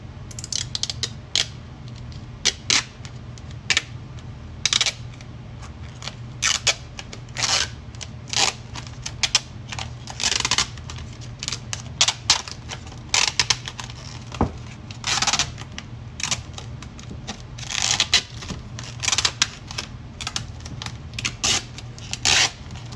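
Protective film is peeled off an acrylic sheet in a series of close, short crackling and ripping bursts scattered irregularly over steady low background noise.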